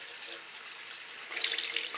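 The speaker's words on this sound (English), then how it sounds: "then I rinse it in the cold water" Cold tap water running steadily into a sink while an antique doll's dress of old fabric is rinsed, a continuous close hiss and splash that swells louder near the end.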